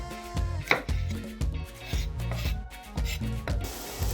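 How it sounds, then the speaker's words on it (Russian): Four garlic cloves are sliced into rounds with a knife, giving a series of regular, crisp cutting taps on a board under soft background music. "Нарезаем кружочками 4 зубчика чеснока."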